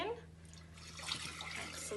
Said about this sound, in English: Pour our water in.